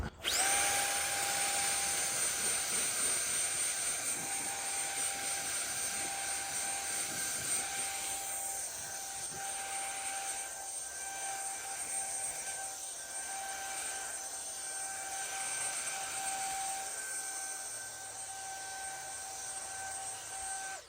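A Ryobi handheld battery leaf blower runs without its attachment, giving a steady, high-pitched electric whine with a strong airy rush that holds constant and close for about twenty seconds.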